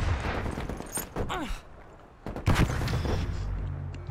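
Bursts of gunfire ring out in an online first-person shooter game in quick, sharp volleys, with voices talking over the action.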